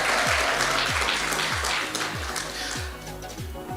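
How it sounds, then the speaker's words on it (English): An audience claps for the finalists at a TV presenter search show, a dense, loud wave of applause that holds steady, while a low rhythmic music beat pulses underneath and the clapping thins slightly toward the end. "a big round of applause for yourselves, really, a big round of applause"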